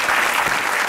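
A studio audience on a comedy talk show claps in a short, loud burst of dense applause, lasting about a second.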